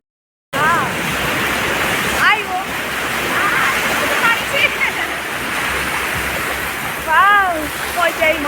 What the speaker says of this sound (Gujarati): ફાઇનલી અમે લોકો દરિયા કિનારે આવી ગયા છે